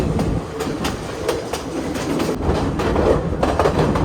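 A train running on rails through the Sri Lankan upcountry on the Badulla to Colombo line, steady rumbling with rhythmic clickety-clack wheel beats, heard close from aboard the carriage.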